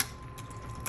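The backspace key on a Smith Corona Coronet Automatic 12 typewriter gives a single sharp mechanical clack near the end, after a quiet faint hum.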